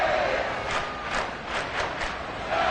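A football stadium crowd roars continuously, loud and close, with rhythmic surges of cheering rising and falling every half second or so.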